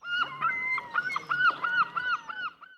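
A gull gives a loud series of repeated, rhythmic squawking calls, close and clear with little else behind it.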